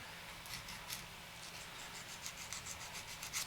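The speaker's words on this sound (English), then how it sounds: "Then I'll hit it with a little bit of sanding stick" Soft, steady rubbing and scraping of a sanding stick on a small plastic model part, quiet and close, with light rhythmic strokes.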